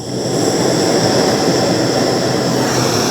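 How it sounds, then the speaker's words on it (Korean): A camping gas torch burns with a loud, continuous roaring flame, a steady broadband rush with no pauses, close and with no talking over it. "그래서 이렇게 토치를 쓰시면 돼요."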